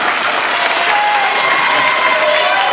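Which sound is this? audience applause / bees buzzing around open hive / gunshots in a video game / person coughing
audience applause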